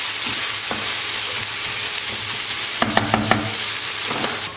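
Salt, red pepper powder and black pepper are stirred into tomatoes in a hot pan: a constant sizzle with a quick run of four or five sharp spoon taps against the pan near the end.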